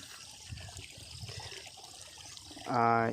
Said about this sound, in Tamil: இப்போ நம்ம இங்கே என்ன பார்க்க போகிறோம்னா தண்ணி ஓடுற சவுண்டு